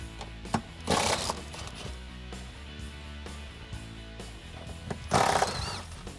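An impact wrench removing bolts during a shifter install on a Dodge Challenger V8 Hemi, two short rattling bursts about four seconds apart, close and loud, with clanking tool handling between.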